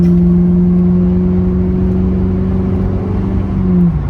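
A 2007 Ford Crown Victoria P71 Police Interceptor accelerates hard, its engine a loud, close, steady drone that holds and climbs slightly in pitch, with no voices over it.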